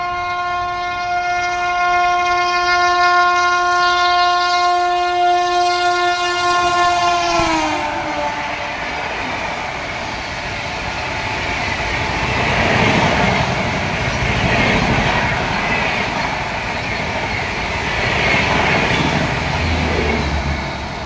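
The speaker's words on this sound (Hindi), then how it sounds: "12013 is overtaking 12057 new daily Daulatpur Chowk Jan Shatabdi express." A New Delhi–Amritsar Shatabdi Express hauled by a WAP7 electric locomotive overtakes another express at about 130 km/h in Haryana, opening with a long loud horn blast, then a sustained roaring rush of passing coaches with rhythmic rail clatter, close by.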